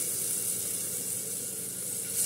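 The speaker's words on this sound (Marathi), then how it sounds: "कुकरमध्ये तेल टाकणार आहोत." Oil poured into a heated pressure cooker while making chicken soup, producing a continuous close sizzling hiss with a faint watery trickle.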